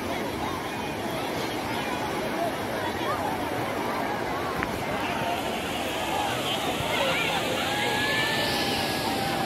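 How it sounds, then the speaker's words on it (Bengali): Sea surf rolls onto the beach at Digha with speedboats running over the waves offshore, a steady broadband wash of breaking water and engine drone that continues throughout, with distant crowd babble mixed in. "এই যে সব যাচ্ছে স্পিড বোর্ডে, এই যে স্পিড বোর্ড"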